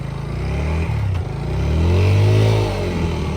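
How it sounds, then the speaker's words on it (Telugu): A motorcycle with burnt clutch plates revs hard in first gear, its engine note climbing and swelling to a loud sustained high-rpm drone, close up with no talk. "చూడండి వావర్ ఆర్పిఎం అయిపోతుంది కానీ బండి పరిగెట్టట్లేదు"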